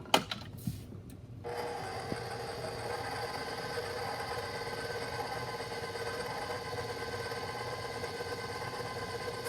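An electric stand mixer runs steadily, beating biscotti dough in a kitchen with flour mixed in, giving a continuous mechanical whir that starts after a few knocks and stays at even volume throughout, with no talking.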